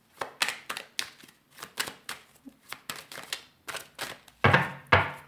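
Tarot cards being shuffled and handled close by: a steady run of about fifteen crisp, papery slaps and snaps, with a few louder riffling bursts near the end and no talking.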